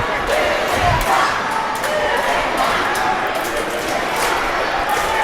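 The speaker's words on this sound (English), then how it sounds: "This crowd is into it." An indoor arena crowd at a professional indoor soccer game roars and cheers continuously, a loud, dense wash of voices with a commentator talking over it.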